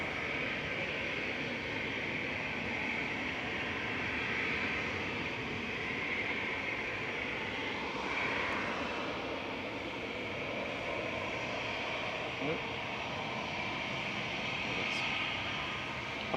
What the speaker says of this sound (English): We've got an Aer Lingus A320